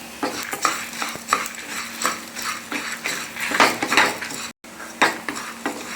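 A utensil stirs and scrapes coriander seeds, dried chillies, toor dal and fenugreek dry-roasting in a metal pan, giving repeated rhythmic scraping and light rattling strokes, close and steady, with a brief gap.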